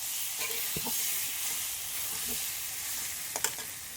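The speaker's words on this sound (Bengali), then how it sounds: "আর এদিকে দেখো ডিমের সব মশলাগুলো দিয়ে আলুগুলো দিয়ে ভালো করে কষাচ্ছি।" Potatoes sauté with spices in a pan for egg curry, giving a continuous bright sizzle and hiss with occasional soft clinks and stirring scrapes, close and steady.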